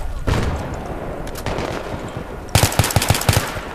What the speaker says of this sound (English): Why are you shooting through the wall?